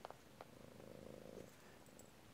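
A cat purring very faintly and close, a low continuous rumbling buzz with a few soft clicks, no voices over it.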